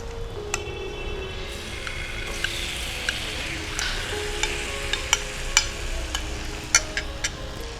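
Paneer pieces sizzle steadily in melted butter on a hot tawa for chili paneer, a dense close crackle punctuated by sharp clicks and scrapes from a spatula, with no talking.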